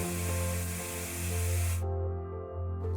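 An aerosol spray can sprays in a steady, loud broadband hiss for about two seconds and then stops abruptly, leaving a low hum.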